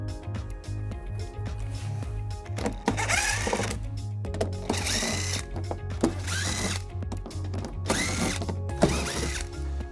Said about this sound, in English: we're gonna remove all of these screws, all 5 of them on the edge,